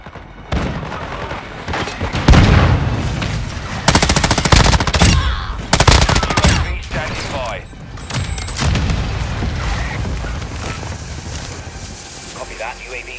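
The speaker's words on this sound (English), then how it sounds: "Our mortar strike is inbound." A mortar strike lands in Call of Duty: Modern Warfare 2 as a run of loud, sharp explosions and bursts of gunfire. Radio-style voice chatter from the game plays between the blasts.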